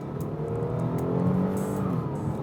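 A 2015 Infiniti Q50 accelerates, its engine note rising steadily and loud from start to finish, with no talk over it.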